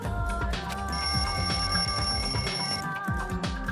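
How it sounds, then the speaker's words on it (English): A wall clock alarm from the video game Danganronpa 2 rings steadily and loudly for about two seconds, a sustained electronic bell tone sitting over a busy game music backdrop. "The lounge's wall clock alarm started ringing at 5:30."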